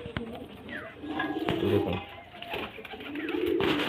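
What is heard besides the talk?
pigeons cooing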